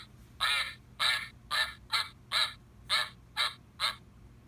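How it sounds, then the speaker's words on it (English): Eight evenly spaced, nasal bird calls ring out one after another from a farm animal sound puzzle, each short and clear against a quiet background, likely a toy's recorded duck quack. "Let's hear what the duck says."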